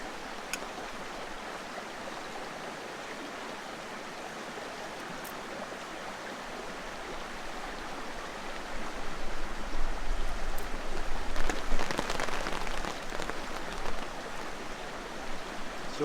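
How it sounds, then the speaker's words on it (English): Steady, hissing rain patters continuously on a tent and tarp at a campsite, swelling louder toward the middle and end, with no voices. "Still raining a little bit."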